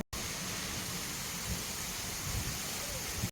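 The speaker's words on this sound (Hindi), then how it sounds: "तो गांव में बारिश शुरू हो चुकी है।" Steady, dense hiss of heavy rain falling continuously on a village, with soft low patters underneath; no voices.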